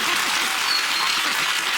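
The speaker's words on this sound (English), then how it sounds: "I don't think we should applaud that sort of thing." A studio audience at a comedy news quiz show applauds in a steady, broad wash of clapping. The sound is loud and sustained across the whole moment, with a voice faintly beneath it.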